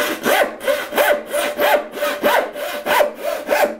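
Steady back-and-forth strokes of a hand saw biting through wood, about two strokes a second, loud and close with no talking.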